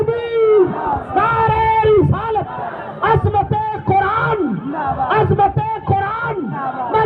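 A large gathering at an Islamic religious address answers a slogan with loud, rhythmic collective chanting, many voices shouting together in repeated bursts that carry right through the stretch.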